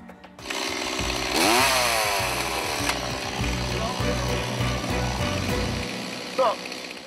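A chainsaw cuts wood, starting up and then running loud and steady with a roaring, revving engine tone for several seconds before briefly easing off.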